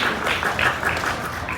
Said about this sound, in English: Can we get a round of applause for Joe?